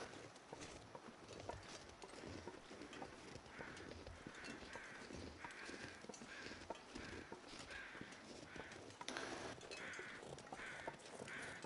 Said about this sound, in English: I do hear other crows.